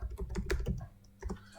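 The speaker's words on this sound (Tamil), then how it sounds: "உங்கள் ப்ரௌசரில் போய் GitHub அப்படின்னு டைப் பண்ணிக்கோங்க" Someone types the word GitHub on a computer keyboard, about a dozen quick, close key clicks in two short bursts separated by a brief pause.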